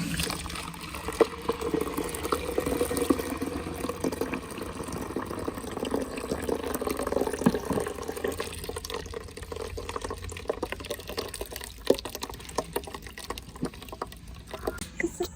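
Blended lime juice pours and trickles steadily through a strainer, with soft drips and splashes throughout, close by and moderately loud.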